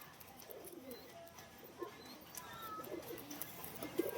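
A breeding pair of pigeons, male and female, coos softly inside a cage, low, faint burbling calls that come in uneven bursts and swell a little toward the end against quiet background noise.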